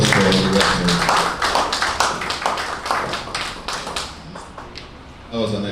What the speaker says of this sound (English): A round of applause for the rector